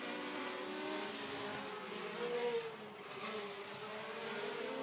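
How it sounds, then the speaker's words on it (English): Mini Outlaw race car at a figure 8 endurance practice, its engine droning into the flag stand turn. A steady, faint-to-moderate engine tone shifts pitch slightly as it bends into the corner, with a small surge midway. "Kind of interesting engine noise there going into the flag stand turn."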